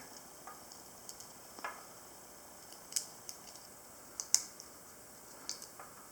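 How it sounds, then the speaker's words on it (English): Small screws being threaded into a Lionsteel Roundhead Barlow pocketknife during reassembly, giving faint, sparse metallic ticks and clicks spaced irregularly over quiet background hiss. "What I like to do is screw backwards just slightly until I hear the threads catch."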